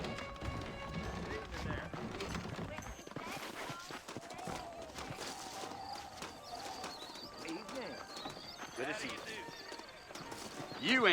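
Rhythmic hoof clip-clop of horses on the move in Red Dead Redemption, steady throughout, mixed with game music and background voices.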